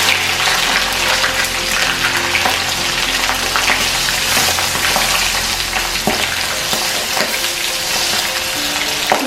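Shallots, garlic and bird's eye chilies sizzle steadily in hot oil, with a continuous crackling fry and occasional stirring scrapes throughout, close and loud with no talking.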